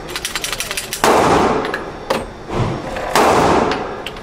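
Gunshots ring out at a gun range, loud and close: a few sharp cracks around the one-, two-and-a-half- and three-second marks, each trailing into a broad reverberant roar, with a faint clattering before the first.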